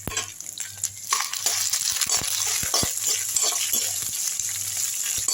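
Dried red chilies sautéing in hot oil for a garlic chutney, giving a loud, steady frying hiss broken by scattered taps and scrapes of a spoon in the pan, close and without speech.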